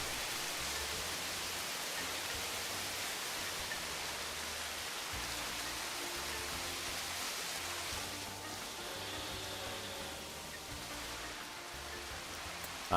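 Steady waterfall rushing in the Planet Coaster 2 park-building game, an even hiss of falling water that runs unbroken throughout, moderately quiet and heard alone.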